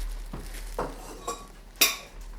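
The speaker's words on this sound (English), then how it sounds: "First you get the curry pot." A curry pot being handled in a home kitchen, giving a few scattered metallic clanks and knocks of cookware at close range, with one sharper clank near the end and no talk.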